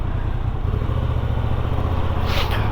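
Moto Guzzi V85TT with an old-school air-cooled pushrod engine on a test ride, its steady low engine drone running continuously and loud, with brief clatter near the end.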